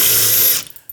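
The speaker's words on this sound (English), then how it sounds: "let's drill out the rivet that we don't want there anymore" A power drill bores out a rivet during assembly of a launcher onto a robot chassis. A loud whine lasts just over half a second and then cuts off, followed by a few faint clicks.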